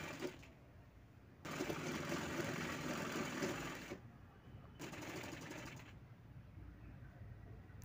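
A sewing machine stitches the lining of a kurti in bursts, a rapid mechanical whirring hum that runs for a few seconds, pauses, then starts again more softly, heard close and fairly quiet.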